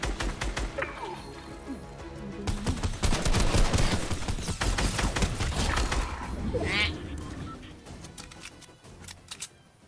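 Rapid video game gunfire rattles in dense bursts over game sound effects, loud and continuous through the middle before easing off, with players talking over it.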